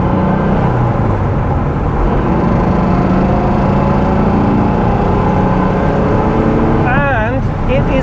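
Porsche 912 driving on a road and overtaking a cyclist, a loud steady engine roar with road and wind rumble throughout, a person talking over it near the end.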